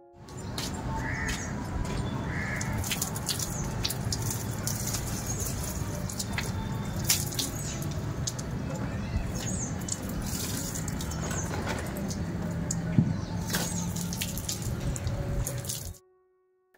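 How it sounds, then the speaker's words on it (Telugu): Water splashes and patters steadily onto potted plants on a rooftop terrace, a continuous pouring wash that runs without a break before stopping abruptly, with a crow squawking now and then. "ఎందుకంటే మొక్కలకి నీళ్ళు వేయడానికి"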